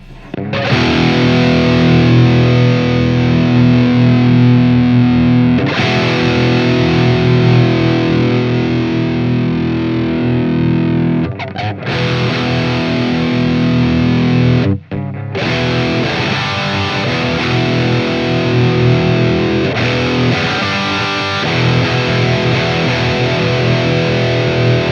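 Heavily distorted electric guitar run through a TG compressor set at 300 ohms, loud and sustained chords played in sections with short breaks, no talking.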